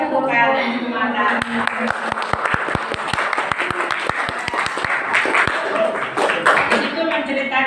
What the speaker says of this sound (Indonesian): Ya, kasih tepuk tangan semata.